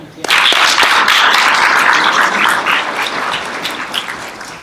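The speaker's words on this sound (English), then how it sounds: "Again, round of applause for Colleen and Long Island Against Domestic Violence." A loud round of applause breaks out at a small business awards ceremony, starting abruptly and continuing as dense, steady clapping that slowly tapers near the end.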